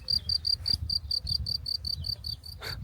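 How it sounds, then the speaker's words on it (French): Crickets chirp in a quick, steady, evenly spaced pulse, close and clear over a quiet low background rumble, with one brief soft knock near the end. "Ah, écoutez les grillons."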